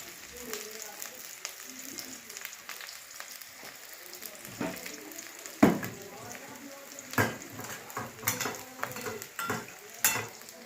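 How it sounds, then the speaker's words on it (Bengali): Garlic added to onions frying in oil for a Bihari-style lota (eel fish) dry curry, giving a low steady sizzle broken by sharp clinks and scrapes of a spatula against the pan, no talk. "পেঁয়াজটা এবার ভাজা হয়ে এসছে, এবার আমি দেব রসুন।"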